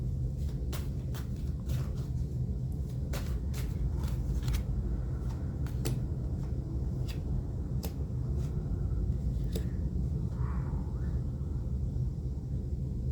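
Tarot cards being shuffled, a series of crisp riffling flicks and snaps at an irregular pace, close up over a constant low background rumble.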